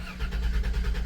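A 1997 Dodge Grand Caravan SE with a flashing engine light, abandoned four years, churns its engine in an uneven, pulsing drone up close, loud and steady through the brief stretch with no pause or restart.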